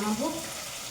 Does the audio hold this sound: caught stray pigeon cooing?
no